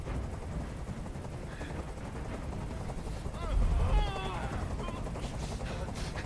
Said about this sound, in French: Je peux plus supporter ce bruit. Fais dégager cet hélicoptère, maintenant.